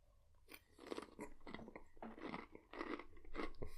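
Close, crisp crunching and chewing of a big bowl of Magic Spoon cereal with peanuts, in repeated bursts of bites over a few seconds, with no talking.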